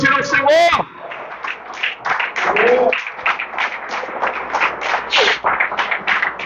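A church congregation claps in a quick, rhythmic pattern, a steady run of close hand claps under a preacher's voice at the start.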